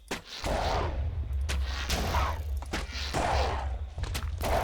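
Repeated weapon fire in a Minecraft modpack, Dimension Hopper, with a dense heavy shot at the start and further sharp blasts every second or so over a constant low rumble.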